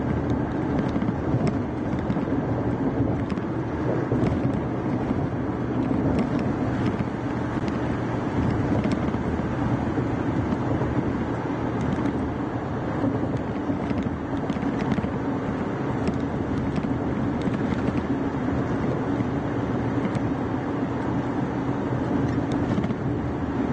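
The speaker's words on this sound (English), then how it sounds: "The winds are a little gusty" Gusty wind during a severe storm in Illinois buffets the microphone with a steady, broad roar and rumble, continuous and fairly loud throughout, with no talk.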